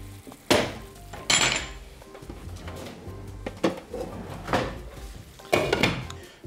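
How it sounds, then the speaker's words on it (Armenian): Metal lid set onto a pan of caponata after stirring, giving a few sharp clanks and knocks of cookware spaced across the moment, close and fairly quiet with small kitchen rattles between. "Լավ խառնելուց հետո կծածկենք կափարիչով, կթողնենք 7-ից 8 րոպե եփվի։"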